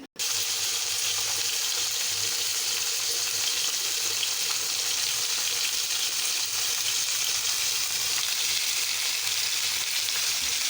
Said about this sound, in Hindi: अब हम इसमें चिकन के पीस ऐड करेंगे और इसको हल्का सा फ्राई करेंगे